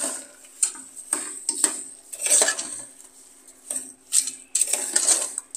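A metal spoon scrapes and clinks against a pot in irregular bursts, close and fairly loud, with short pauses between strokes, while stirring sugar into carrot halwa in a pressure cooker.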